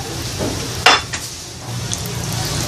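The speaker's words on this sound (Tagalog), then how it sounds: "Kailangan tunawin natin mabuti yung butter." Butter melts and sizzles in a pan with a soft continuous fizz, broken by a sharp utensil scrape and a few lighter stirring clinks close by, with no talking.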